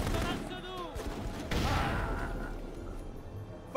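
Gunfire in Full Spectrum Warrior, a squad under fire amid grenades, crackles in a fusillade with a sharp burst midway that fades into distant rattling shots, fairly faint overall.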